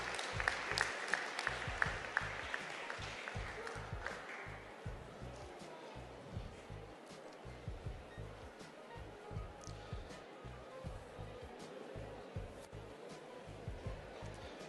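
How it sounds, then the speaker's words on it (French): Faint, distant crowd applause ripples at a livestock presentation contest at an agricultural show, clapping in loose bursts beneath a soft, steady background hum. "Vous pouvez l'applaudir, vous pouvez l'applaudir."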